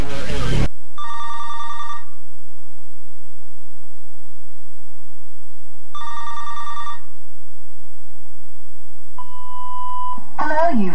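A household telephone rings twice in loud, evenly spaced bursts, then an answering machine gives a single beep tone before a voice begins.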